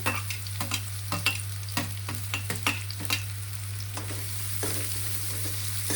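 Chicken roll filling sizzles steadily in a pan while a spatula scrapes and stirs it in quick, irregular strokes, close up over a constant low hum.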